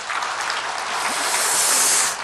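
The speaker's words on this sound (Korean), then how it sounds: "우리 장로님 박수 한번 쳐주세요." A church congregation applauds together at a 65th anniversary service, a dense, even wash of clapping from many hands that swells slightly before ending.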